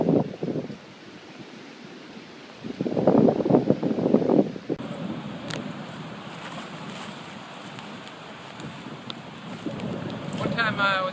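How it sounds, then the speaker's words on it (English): Strong gusting wind buffets the microphone on a hiking trail after rain, rumbling loudly in surges with a steadier rush between gusts. "It's really windy now."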